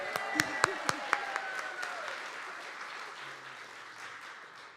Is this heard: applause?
yes